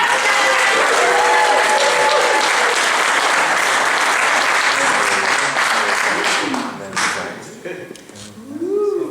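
A large audience at a talk claps and cheers loudly and steadily, then the applause fades out near the end as a voice begins speaking.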